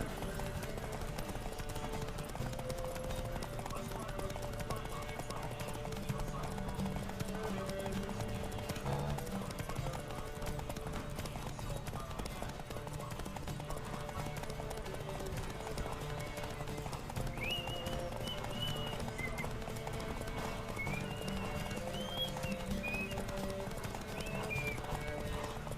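Horse hooves clip-clopping steadily at a gallop during a race in The Witcher 3, with a whinny and game music layered over a continuous, dense background.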